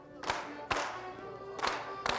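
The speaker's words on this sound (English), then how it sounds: "Right clap, clap." Groups of line dancers clap their hands in sharp double claps at a German-themed Bezirkfest dance workshop in Anaheim, two crisp pairs of claps ringing out over a quiet room.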